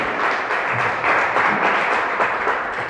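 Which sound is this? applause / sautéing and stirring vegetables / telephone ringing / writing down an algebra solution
applause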